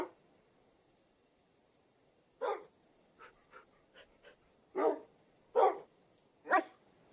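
Minecraft dog, a tamed wolf, barking in the game: several short, fairly quiet barks spaced irregularly over a faint steady hiss, with no talk.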